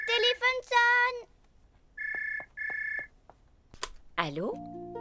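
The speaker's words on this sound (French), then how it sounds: "le téléphone sonne" A telephone rings in a children's cartoon, with two clear bursts of electronic ringing in the middle and a voice speaking before and after.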